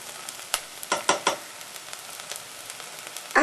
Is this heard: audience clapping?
no